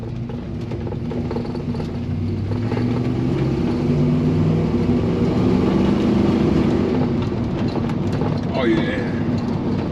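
A Chevy C-10 truck engine hums steadily and loud from inside the cab while driving, a continuous low drone with shifting tones, as someone talks briefly over it.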